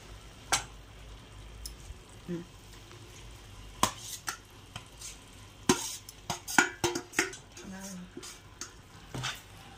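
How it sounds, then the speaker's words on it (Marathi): Fenugreek leaves (methi) stirred into masala in a pan: scraping, clattering spoon strokes and knocks against the pan come in irregular bursts over a low simmering hiss, growing busier toward the middle. "आपण याला हलवून घेणार आहे, असं एकजीव करणार आहे."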